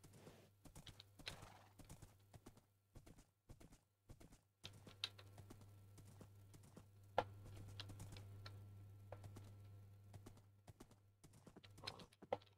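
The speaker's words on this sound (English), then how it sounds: "Look at the horse." Rhythmic horse hoof clip-clops in Minecraft, faint and evenly paced, sounding synthetic, with a low steady hum underneath and a brief whinny.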